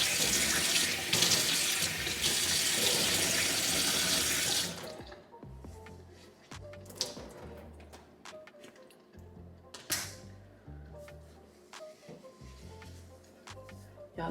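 Kitchen sink tap running loudly for about five seconds during a hair wash, then shutting off, followed by quieter drips, splashes and handling noises at the sink.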